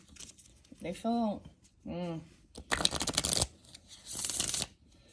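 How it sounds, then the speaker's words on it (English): Tarot cards being shuffled in two quick riffling bursts, preceded by someone talking briefly. "So I'm going to give it a good shuffle."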